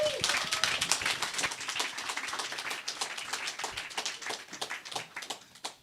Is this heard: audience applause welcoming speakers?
yes